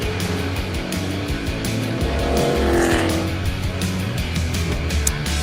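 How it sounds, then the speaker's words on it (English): A NASCAR Cup Series stock car, a backup car, roars through the high-speed kink at Road America during qualifying, engine loud and steady throughout with a brief swell midway and a hint of tire scrub. "a backup car for Kyle Busch going through the kink"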